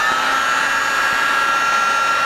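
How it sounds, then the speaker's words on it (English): An industrial hair dryer blows steadily and loudly throughout, a constant close whooshing roar with a high whine. "Just gonna warm it up here with the industrial hair dryer"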